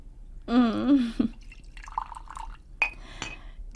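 Wine poured into a glass, a short gurgling, rising liquid sound lasting under a second, followed by faint clinks and quiet background movement, close by and moderately soft.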